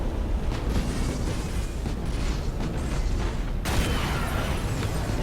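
Shield disruption bomb detonating in the space strategy game Battlefleet Gothic: Armada, a dense rumbling blast with crackling bursts that swells into a sharp, brighter surge partway through over continuous battle noise.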